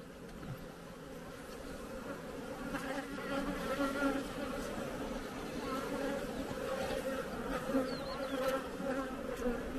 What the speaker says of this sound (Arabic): هاي نحلة حديثة الفقس.